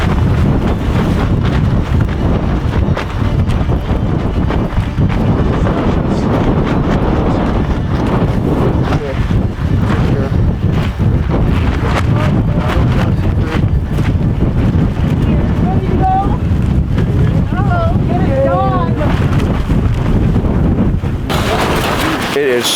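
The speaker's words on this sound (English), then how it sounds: "It is so cold and so windy tonight." Strong, cold night wind on Kilimanjaro roaring and buffeting the microphone nonstop, loud and gusty, with faint voices mixed in beneath the noise.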